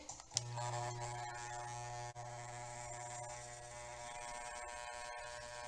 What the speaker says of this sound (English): so how you position the clipper matters a lot at this point